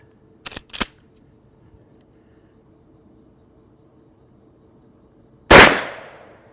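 A Henry lever-action .410 shotgun fires a Hornady Triple Defense shell loaded with a lead slug and two round balls: one sharp, loud outdoor report with a ringing decay, after two brief clicks of the action, with insects chirping faintly behind.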